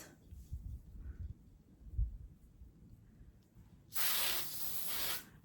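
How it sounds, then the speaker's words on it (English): Hair spray hisses in one steady burst of about a second and a half, sprayed onto the hair roots while sectioning during an at-home blow-dry, after some quiet handling noise. "spraying it on the roots"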